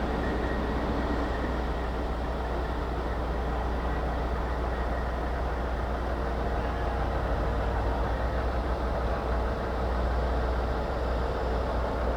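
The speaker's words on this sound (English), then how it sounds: "And a few more big trucks." Big trucks pass in a small-town parade in Chazy, a loud continuous rumble of heavy engines and rolling noise held steady throughout, close by and without clear talk.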